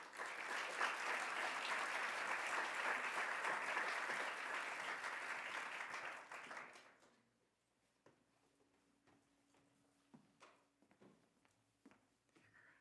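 Audience applause welcoming a speaker to the podium at a history lecture, a dense, steady clapping that runs loud for about six seconds and then fades out into a quiet room with scattered faint knocks.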